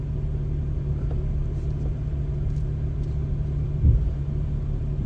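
Car traffic on Highway 441 near Athens, Georgia, a steady low rumble of road noise from inside a moving vehicle, loud and constant with one brief bump.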